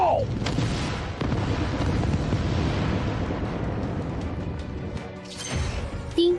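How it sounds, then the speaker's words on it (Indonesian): A golden Qi explosion effect rendered as a dense, sustained roaring blast that fills the whole stretch, rumbling and crackling loudly with a brief swell near the end. "Ledakan emas Qi Xiao."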